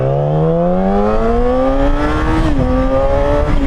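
Yamaha R6 sport motorcycle accelerating hard on throttle through a blind corner, engine pitch climbing steadily in a loud, close rising whine, with a brief dip near the end before pulling again; no talking.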